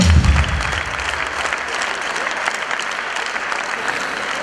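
Loud, dense applause from a hall audience at a ceremony honouring commanders, a sustained wash of many hands clapping that holds steady from start to finish with no voices over it.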